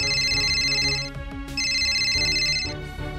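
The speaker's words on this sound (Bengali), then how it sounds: "শোনো, এই ধরো আমার কল আসছে" A phone ringtone plays loudly, a repeating electronic melody with steady bright tones, heard alone with no talking.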